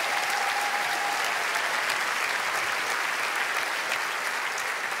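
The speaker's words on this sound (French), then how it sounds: "Un tonnerre d'applaudissements pour Kevin" An audience in a French comedy show by Eric Antoine applauds a departing contestant, Kevin, with steady, dense clapping that holds at a constant level for the whole stretch and is not interrupted by any voices.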